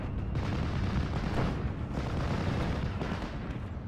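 Anti-tank gun fire in the Steel Division 44 World War II strategy game sounds as a dense, rumbling barrage of booms under continuous battle noise, fairly loud and unbroken throughout.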